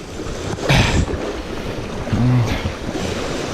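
Small ocean waves breaking on the shore at Martin's Beach, two surging washes of surf over a constant roar of water and wind buffeting, close and fairly loud with no talking.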